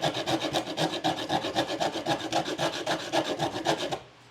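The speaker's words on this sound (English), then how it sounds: "carving that down in that one area and just running it against my cheese grater" A soup can is rubbed steadily against a cheese grater, giving a rapid, rhythmic rasping scrape in quick repeated strokes, close and moderately loud, before stopping abruptly near the end.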